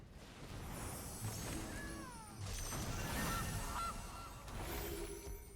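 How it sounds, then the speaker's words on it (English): A goose honking sound effect in a digital card game, faint and in the background, with a few short honking calls and pitch sweeps spread over a few seconds. "Honk honk you too, Goose."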